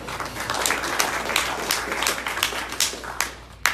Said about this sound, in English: let's have a round of applause for the library